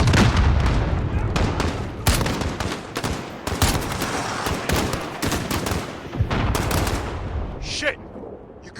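Modern Warfare combat during an embassy defense mission, with dense bursts of automatic gunfire and booming shots. The firing is loud and near, then briefly drops away near the end, and voices shout over the shooting.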